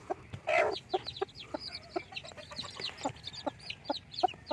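Newly hatched chicks, including Rhode Island Red and native-breed chicks, peep in short, high, repeated chirps at a steady rhythm, close and fairly soft, with a brief louder flutter near the start.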